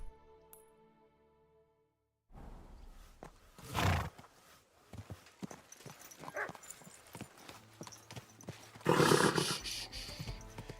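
Hooves of a horse in the game Kingdom Come: Deliverance 2 clatter in rapid bursts after a short silence, with a loud whinny and snorts rising over the galloping.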